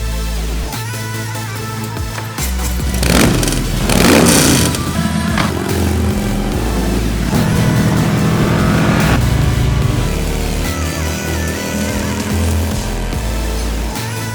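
Harley-Davidson Sportster S motorcycle, its 1250 engine revving hard on a test ride in sport mode, loud rising and falling throttle blips, shifting through gears with a surge of power near the middle, no talking.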